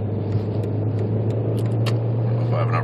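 A 2003 VW Jetta 1.8T pulls away at quarter throttle, its steady low engine drone rising through first gear with a gear change partway, heard from inside the car with faint road noise.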